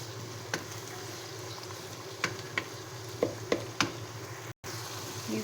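Minced meat (qeema) frying in a pan for a qeema aloo phaliyan dish, giving a steady low sizzle with occasional sharp clicks of stirring, close and moderate in level.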